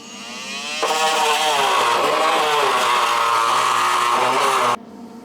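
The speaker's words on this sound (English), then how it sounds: "Just gonna have to cut the opening a little bit bigger right there." A power tool whines steadily while cutting a larger opening in the sheet metal of a Saab 900 Turbo Commander's drive shaft tunnel, loud and close, running for about four seconds before stopping abruptly.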